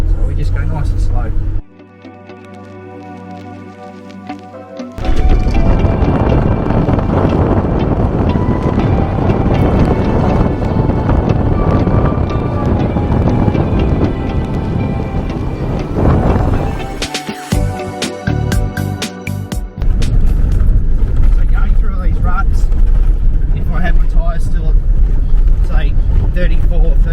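A 4WD creeps slowly along a rocky outback track in the Northern Territory, its engine rumble and rattling bodywork loud and continuous with wind buffeting the microphone, while someone talks over it.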